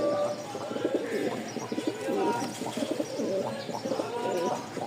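Rajshahi high-flyer pigeons cooing in a loft, a steady chorus of low, throaty coos running continuously throughout at close range, with no talking.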